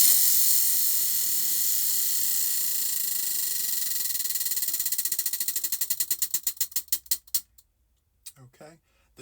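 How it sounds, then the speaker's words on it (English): A crochet stitch prize wheel is spun and clicks steadily, the rapid ratcheting slowing into spaced individual ticks before it stops, followed by faint handling noise. "let's spin again for stitch number 2"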